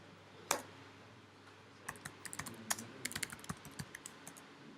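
Typing on a computer keyboard: one sharp keystroke, a pause, then a quick run of close, crisp clicking keys, quiet and with no talk over them.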